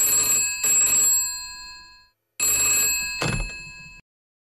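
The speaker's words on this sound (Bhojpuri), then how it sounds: "फोन बजा।" A telephone rings indoors with two loud electronic bursts of ringing separated by a short silence, each dying away, and a brief knock or bump during the second.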